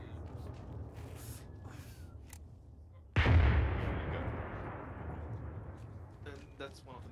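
Close artillery fire in ArmA 3: one heavy, abrupt blast lands nearby, then a long rolling rumble decays over several seconds. Voice chat and radio chatter come before and after it.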